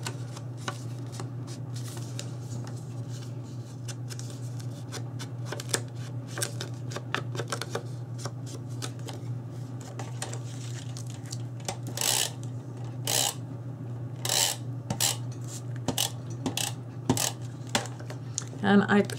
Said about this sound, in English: I forgot to ink this piece of paper